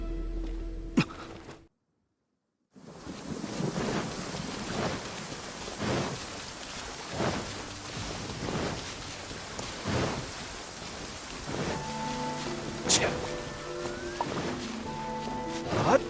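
Rain falls steadily in the Inazuma region of the video game Genshin Impact, with soft rumbles of thunder rolling in repeatedly and game music tones entering later. A short silent gap near the start interrupts the sound.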